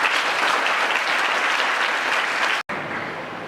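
Villagers at a cricket academy event in Hanol give a loud, steady round of applause that holds evenly, then cuts off abruptly and resumes more faintly.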